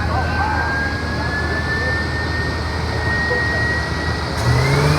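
Hot rod V8 with its air cleaner removed, running hard on a chassis dyno, a loud steady roar with a rising whine through the run, with people talking over it.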